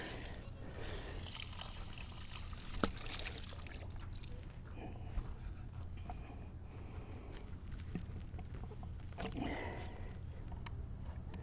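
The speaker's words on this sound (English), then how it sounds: "Now it's just drain the water." Water pours and trickles steadily from a filter housing at an RV, close by, with a low rumbling hum underneath and a few faint clinks.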